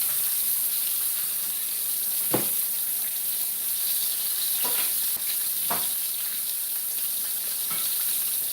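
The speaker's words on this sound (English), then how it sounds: "Let me go ahead and flip these. The onion rings, they cook really quick." Onion rings fry in hot oil with a constant bright sizzle and crackle, broken by a few brief louder bursts as pieces are flipped.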